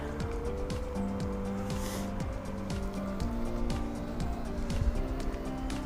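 A Megawheels S5 electric scooter with a 250 watt motor hums steadily on a test ride, with constant wind and road rumble close by and a few short bumps, with no talk.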